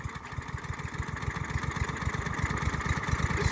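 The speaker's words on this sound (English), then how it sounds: "When have you seen me do all this to start the lawnmower?" A brand new lawnmower engine putters at close range, a rapid, even chugging pulse that grows slightly louder as it runs, with no talk over it.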